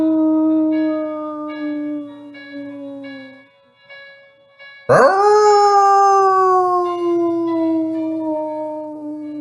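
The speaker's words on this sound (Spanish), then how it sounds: "Y al mirar aquella luna, lanzaba un poderoso aullido." Two long, loud howls: a steady wavering one, a brief pause, then a second rising sharply and slowly falling, alone with no talk.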